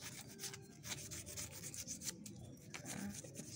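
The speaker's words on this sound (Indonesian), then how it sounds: "Nah, ini diamplas sedikit-sedikit saja ya" A brake caliper piston is sanded lightly with fine sandpaper, giving close, soft rasping strokes in a steady back-and-forth rhythm with no talking.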